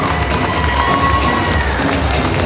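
A crowd at the Miss Auckland Samoa Fa'afafine Pageant 2016 cheers and shouts loudly for the newly crowned winner, a dense continuous roar of voices with applause filling the hall, no speech over it.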